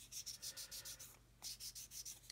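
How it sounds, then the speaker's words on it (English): A flat sander rubs back and forth over the barrel of a 1/35 scale British 7.2-inch howitzer model, giving steady rhythmic scraping strokes with a brief pause midway, close and fairly quiet. "I know this sander is flat, and I can just sand over the barrel"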